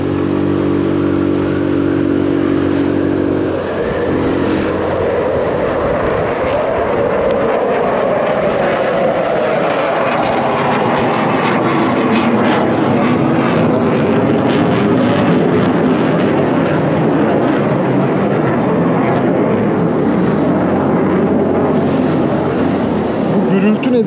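A loud, sustained military jet roar over Eskişehir, Turkey fills the whole stretch, steady and broad, with people talking over it.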